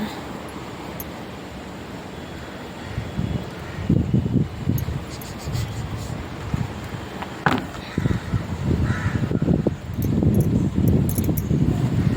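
Strong wind buffets the microphone in rough, uneven gusts, a constant rushing roar with louder bursts throughout.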